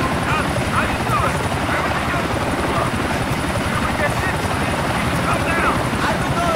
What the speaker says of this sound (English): I don't know if you can hear it, Roman, but I'm in a helicopter